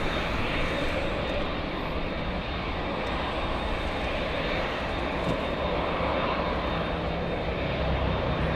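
A Turkish Airlines airliner at LAX gives a sustained, even engine roar that stays loud and steady from start to finish, with no distinct voices.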